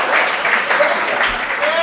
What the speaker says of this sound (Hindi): पूरा सदन ताली बजाना ही पड़ेगा।